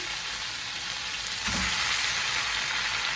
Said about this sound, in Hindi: पैन हो गया है गरम, तो इसके अंदर मैं डाल दूंगी आलू।